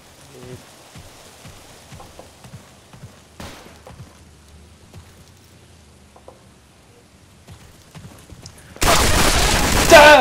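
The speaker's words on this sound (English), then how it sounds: "Sounds like the MP40 off of Where Eagles Dare as well." MP40 submachine gun fire in the World War 2 shooter Resistance and Liberation: sparse faint pops and clicks, then a sudden loud, dense burst of automatic fire near the end.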